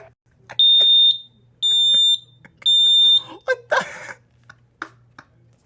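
Three loud, sustained electronic smoke-alarm beeps sound in a row, each lasting about half a second, followed by a burst of excited voices and short thumps.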